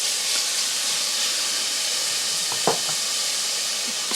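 Smoked bacon rashers sizzle in a saucepan on a hob, a steady close hiss with a faint crackle or two partway through.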